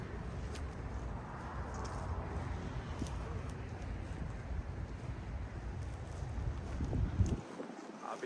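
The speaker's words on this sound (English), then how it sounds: "As you can hear, it's a bit windy." Wind blows across a lake shore on a blustery day, buffeting the microphone with a constant low roar that swells and gusts, briefly rising louder near the end before cutting off.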